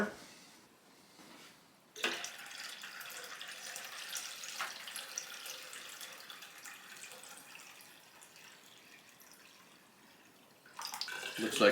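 Water pouring into a roaster pan as a quart is added to white vinegar for soaking a rusty cast iron skillet: a faint steady splashing stream runs for several seconds, then a louder gush near the end.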